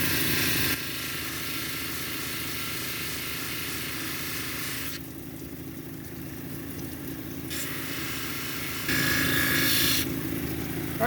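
A petrified wood cabochon is ground on a 600 grit wheel, giving a steady close gritty rasping hiss that swells and eases in sections as the stone is pressed and lifted, with no talking.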